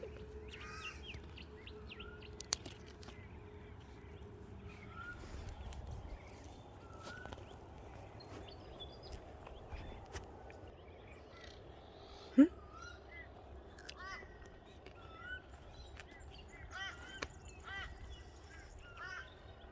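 Crows and other garden birds call repeatedly around a rural property, the caws and chirps scattered and moderately distant over a quiet background, with one sharp nearby knock partway through.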